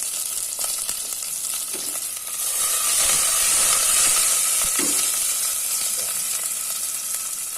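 Thin, long-sliced onions and slit green chilli fry with spices in a pan for chicken biryani, giving a loud, continuous hissing sizzle that swells slightly midway.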